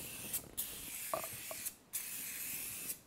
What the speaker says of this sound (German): So, ich sprühe das jetzt ein.